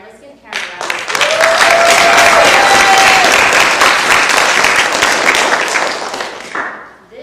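An audience applauds the bus driver Karen at a GeoFORCE Alaska graduation ceremony, with dense, sustained clapping that swells quickly, holds steady for several seconds and then fades out, a brief tone sounding early on.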